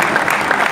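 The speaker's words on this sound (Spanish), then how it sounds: "le damos un aplauso grande a estos chicos" A crowd at a youth football club's presentation of its coaching staff and new sub-committee gives the young players a dense, steady burst of applause, close and loud for under a second.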